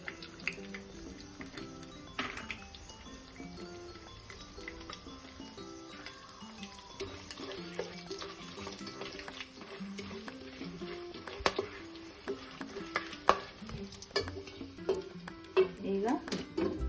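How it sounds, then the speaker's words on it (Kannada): Cashews frying in ghee in a pan for ghee rice, a low steady sizzle with occasional stirring scrapes and utensil clinks, quiet and close. "ಗೋಡಂಬಿ ಎಲ್ಲ ಸ್ವಲ್ಪ ಫ್ರೈ ಆಗಿದೆ."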